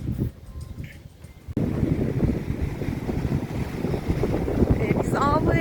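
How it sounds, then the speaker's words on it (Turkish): Strong wind at Kilimli Bay buffets the microphone in a steady, broadband roar, louder after a brief quieter start, with faint higher tones near the end. "Rüzgarın sesini de duyuyorsunuzdur."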